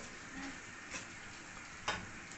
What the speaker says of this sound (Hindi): तो अब इसलिए इसको हम फ्राई कर रहे हैं